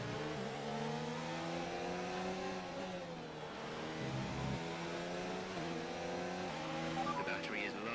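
Formula 1 car engine in the F1 2019 racing game, high-pitched and screaming as it revs and shifts through gears in rising sweeps, loud and continuous, with someone commenting over it.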